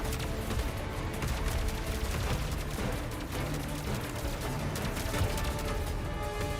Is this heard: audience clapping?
no